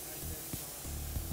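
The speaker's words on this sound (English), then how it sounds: "Begin the application by spraying a nice even flow over the entire surface." An HVLP sprayer lays colour coating over a floor, giving a steady broadband hiss with soft low thumps and small shifts in pressure.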